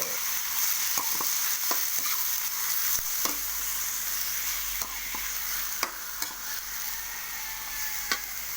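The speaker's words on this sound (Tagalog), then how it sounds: "ilagay na natin ang ating pusit halo-haloin hanggang sa maluto" Squid adobo sizzles steadily in a pan while a utensil clacks and scrapes against it in irregular sharp knocks, close and with no voices.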